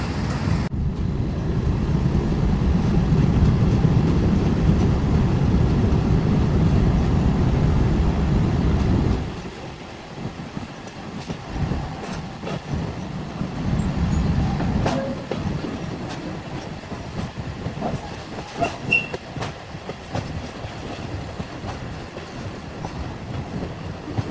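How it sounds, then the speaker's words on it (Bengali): A train running in over the home signal into Padma railway station, on the line across the Padma Bridge from Faridpur toward Dhaka, rolls with a loud, dense rumble that drops abruptly to a quieter rattle with scattered clicks and knocks. "আমাদের ট্রেনটি এখন পদ্মা রেল স্টেশন প্রবেশ করছে"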